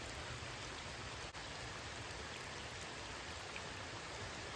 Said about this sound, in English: the rain's starting to slowly pick up